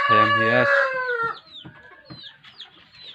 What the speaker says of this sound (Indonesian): Ayam hias.